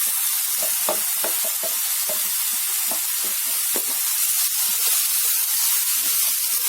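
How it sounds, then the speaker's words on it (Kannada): Chicken with tomato and grated ginger fries in a pan, giving a steady loud sizzle and hiss throughout, with scattered pops and stirring scrapes. "ಆ ಬಿಸಿಗೇನೆ ಇದು ಫ್ರೈ ಆಗುತ್ತೆ, ಸಾಕಾಗುತ್ತೆ."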